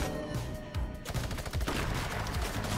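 Drum gun firing in the video game Fortnite, a rapid volley of gunshots over a background game hum, continuous through most of the stretch and loud against the quiet start.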